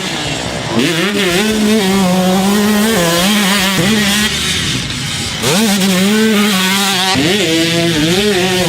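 A 2002 Honda CR125 two-stroke dirt bike engine revs loudly and close, rising and falling in repeated bursts with a raspy, buzzing tone and brief dips between throttle pulls.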